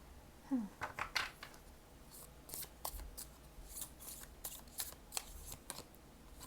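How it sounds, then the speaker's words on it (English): A deck of tarot cards is shuffled close by in quiet, repeated riffling bursts and soft papery flutters, with short pauses between them. "This deck has been shuffled so many times."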